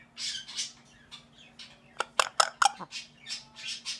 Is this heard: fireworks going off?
no